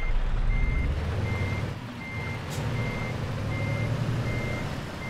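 Scania truck in Euro Truck Simulator 2 reversing, its beeper giving evenly spaced steady tones over a loud low diesel engine rumble, with a brief hiss partway through.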